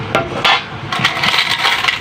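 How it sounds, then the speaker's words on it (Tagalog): Saved coins, a pocketful of small change, are dropped and handled, making dense, continuous metallic clinking and jingling with sharp bright rattles, close and loud throughout. "So ito po yung aking mga barya."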